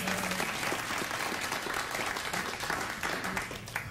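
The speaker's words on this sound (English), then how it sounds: "You clap like that, I don't know where I am anymore." A late-night television studio audience applauds in a dense, continuous roar of clapping that holds steady and fairly loud from start to finish.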